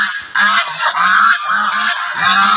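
A gaggle of geese honks loudly and close by in a rapid, overlapping series of nasal calls that keeps going from start to finish, with no talking.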